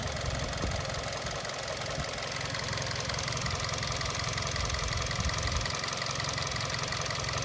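A Hyundai Verna car engine with 85,000 km idles with a steady, low rumble, droning on evenly throughout without change and with no voices.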